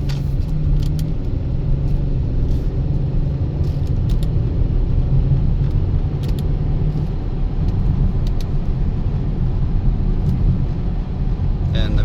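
A grey 2023 Audi RS7 on a test drive gives a steady, loud low rumble of engine and road noise that holds evenly throughout, with faint light clicks now and then.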